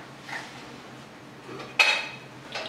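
A frying pan is set and shifted on a stovetop before vegetarian burgers are fried, giving a few metallic knocks and one sharp clink among quieter handling sounds, close by with no talking.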